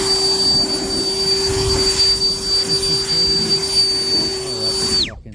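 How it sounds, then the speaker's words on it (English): A blower roars steadily at close range while clearing out the coil of a walk-in freezer, a continuous high whine with a loud rushing air hiss that cuts off abruptly at the end. "I'll get my blower and we'll clean out this fucking coil too."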